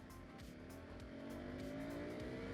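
A KTM 390 Adventure motorcycle with a 350cc engine accelerates steadily, its engine note climbing in pitch as it pulls away, loud and continuous with no talk over it.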